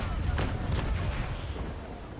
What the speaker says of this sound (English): let's fire the bow chasers